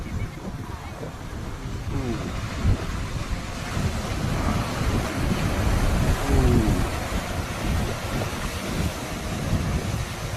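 Loud Indian Ocean surf rumbles and washes steadily while gusty wind buffets the microphone, with a voice speaking faintly underneath.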